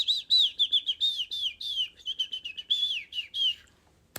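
A person whistles in imitation of a bird, producing a quick string of high, chirping, sliding tweets in short bursts, clear and close with no other sound behind it.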